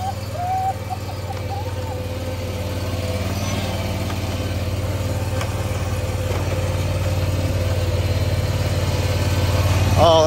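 A riding lawn mower engine runs steadily close by, with a constant low hum that swells slightly as the throttle comes up, and brief voices at the start and end.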